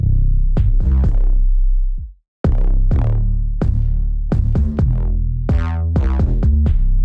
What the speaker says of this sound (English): So let's go with our 808 that we have right now.